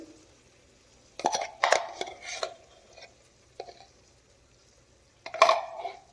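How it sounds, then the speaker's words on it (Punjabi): Spoon stirring egg bhurji in a pan: several short scraping and clattering bursts, loud and close, in three main clusters separated by quiet gaps, with no talking. "ਤਾਂ ਇਹਨੂੰ ਹੁਣ ਆਪਾਂ ਇੱਕਦਮ ਨਾਲ ਦੀ ਨਾਲ ਹਿਲਾਉਣਾ ਹੈ"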